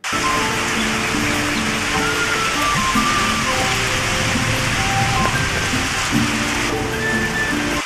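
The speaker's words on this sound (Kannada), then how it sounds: "ಓ, ಮಳೆ ಬರ್ತಾ ಇದೆ" Steady rain falls continuously, a dense near hiss of drops on surfaces throughout, loud and unbroken, with no talking over it.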